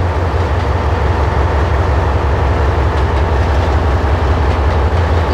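An L1 British steam locomotive departs in the Trainz railway simulator with a loud, steady low rumble and a rhythmic pulsing chuff, close and continuous, with no voices.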